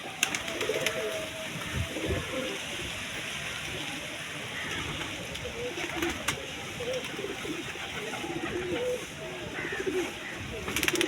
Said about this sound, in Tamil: நம்ம புறாக்கள் வந்து குஞ்சிலே இறை சாப்பிட ஆரம்பிச்சிடும்